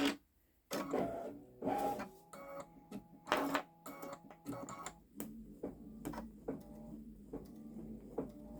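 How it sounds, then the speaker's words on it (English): A Babylock Solaris Vision embroidery machine stitches out a fox design on a sweatshirt, with a fast, steady mechanical chatter of needle strokes and repeated clicks close by and moderately loud. "But the design itself is stitching out really nice."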